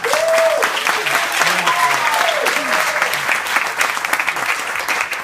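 Wedding guests applaud at a reception, a thick continuous clatter of clapping that fills the room at full strength, with murmured voices and brief cheers faintly mixed beneath.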